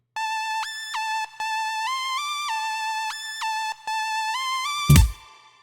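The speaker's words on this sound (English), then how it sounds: "So it looks like it's just a sawtooth wave" A soloed Gangster Lead patch from Thor in Reason 12, a bright sawtooth synth with chorus, steps through a melody of sustained notes with short gaps, ending in a sharp noisy burst.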